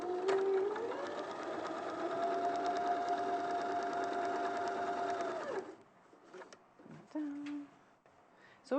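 A sewing machine stitches quilt panels together along the top edge, a steady loud motor whine for several seconds that stops abruptly, followed by quiet handling sounds and brief voices.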